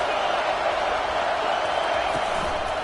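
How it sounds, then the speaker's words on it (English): Steady roar of a large stadium crowd at a college football game, a dense continuous wash of cheering and noise with no breaks across the whole stretch. "This crowd trying to make life miserable for this offense."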